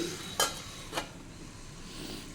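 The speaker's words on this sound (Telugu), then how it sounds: "ఈ గుమ్మడికాయల ముక్కల్ని ఒకసారి మళ్ళీ బాగా కలుపుకుని" Cut pumpkin pieces stirred in a pan, giving two short scraping strokes, the first sharper, over a quiet, steady background hiss.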